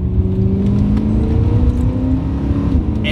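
BMW M3 E9X-generation V8 engine running with a deep, steady low rumble and faint rising whine, close and loud throughout, no voices.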